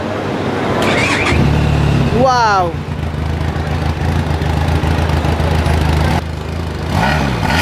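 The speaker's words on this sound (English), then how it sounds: "How about cranking the motorcycle and hearing to the inline 2-cylinder heartbeat?" Benelli TRK 502X adventure motorcycle with an inline two-cylinder engine cranks with a brief starter squeal, then settles into a steady, loud, close idle that runs alone, with a short exclamation from a person partway through.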